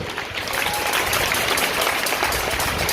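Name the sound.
applause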